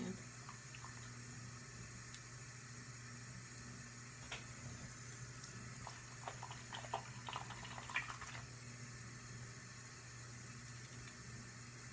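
Tap water runs softly into a sink while makeup brushes are washed, a quiet continuous stream with light splashes and small clicks of handling in the middle.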